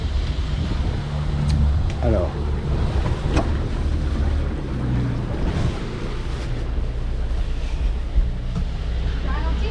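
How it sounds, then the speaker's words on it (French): A sailboat's engine running during an Azores-to-Gibraltar crossing, heard below deck in the cabin: a steady low droning rumble with wind and water noise, under someone speaking briefly. "Bon, ça va être bruyant puisqu'il y a le moteur qui est en route"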